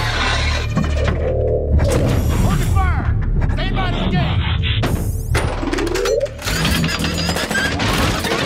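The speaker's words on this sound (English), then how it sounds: "Grindor transform!" Cartoon Transformers robot Grindor changes form amid a dense, loud barrage of clanking, whirring and ratcheting mechanical effects with crashes, while voices shout over the din.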